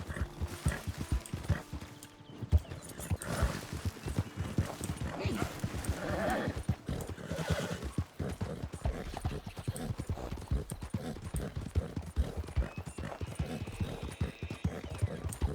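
A horse in Red Dead Redemption 2 gallops with steady, rhythmic clip-clop hoofbeats close up and lets out a whinny, while someone talks over it throughout.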